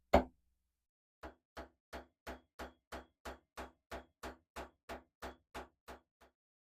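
A hammer strikes wire laid on a metal bench block, flattening it: one heavy blow, a pause, then about fifteen evenly spaced, sharp, close taps that fade slightly at the end.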